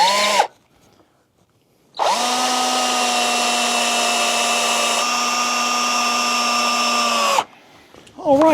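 A power drill drives screws into a wooden beehive stand in two bursts: a short whir, a pause, then a long steady high whine that winds down, heard up close.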